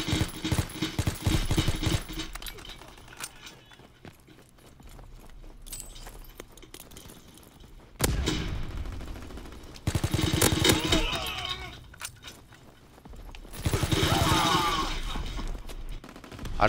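Bursts of rapid gunfire from a shooter video game, coming in a few loud clusters separated by quieter stretches with scattered shots.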